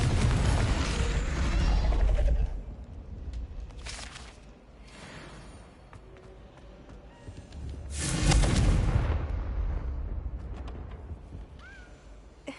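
A Confringo explosive spell detonates in the Hogwarts Legacy video game: a heavy rumbling blast opens the scene, then quieter mechanical rattling, followed by a second booming surge that slowly fades into lingering ambience.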